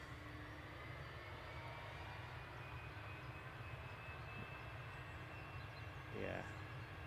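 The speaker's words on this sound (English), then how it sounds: "thought I could hear the engines just picking up, feathering" Delta airliner engines spooling up at an airport, a faint steady jet roar with a rising whine, heard from a distance with a voice briefly over it.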